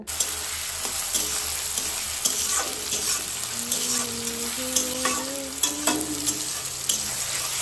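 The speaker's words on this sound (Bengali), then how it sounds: "কেটে রাখছিলাম কুচি কুচি করে টমেটো আর তার সাথে বেগুন, এবার সেগুলো একসাথে দিয়ে দিলাম, দিয়ে এবার হালকা পরিমাণ ভেজে নিব" Chopped tomato and eggplant fry in a pan while being stirred, a close, busy sizzle broken by repeated scraping stirs and clinks of the spoon, with a faint tonal sound in the background.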